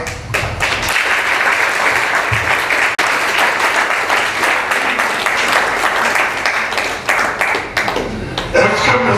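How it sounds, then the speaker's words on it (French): Loud, sustained applause fills a wedding hall during an official civil marriage ceremony, dense clapping from a gathered crowd holding steady for several seconds before thinning slightly at the end. "Nous pouvons donc librement célébrer ce mariage sous nos acclamations."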